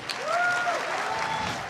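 Audience applause greeting a lecturer at a talk on persuasive presentations, a steady wash of clapping that holds at an even level for the whole short stretch, with a faint tonal whistle-like tone riding above it.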